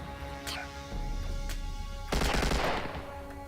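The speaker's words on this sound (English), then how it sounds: "And there are bad guys, and they shoot you, and they hurt you too." Enemy gunfire in a 2013 Unity FPS adventure game, with a few sharp shots and then a burst of louder rapid fire and impacts near the end, no talking.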